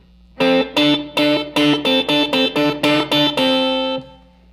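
Electric guitar played with hybrid picking in a solo lick, with overdriven, effected tone: about a dozen quick, evenly spaced picked notes ending on a sustained ringing note, loud and alone.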